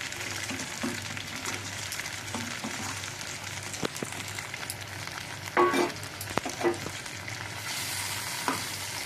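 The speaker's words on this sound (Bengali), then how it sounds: "এই যে তেলের ঝালটা এবার ফুটছে" Spicy oil sauce for puti fish bubbles and sizzles steadily in a pan, a continuous close frying hiss with a few louder crackles and pops.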